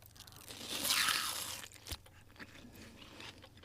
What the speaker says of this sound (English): Today we are eating a cake and french fries.